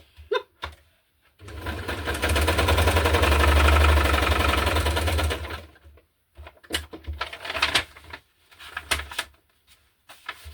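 A sewing machine runs for a few seconds with a steady rapid buzzing whir, loud and close, framed by clicks and handling noises.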